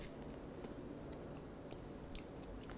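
Dehydrated ranch dressing being chewed: faint, close, soft crunching and squishy bites in a quiet room, with a few sharper crackles.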